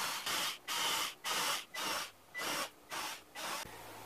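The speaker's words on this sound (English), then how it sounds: "And all I have to do now is finish the drilling hole." Power drill boring holes through a pegboard template into cabinet sides for shelf pegs: seven short, evenly spaced bursts of whirring, loud and close, no voices.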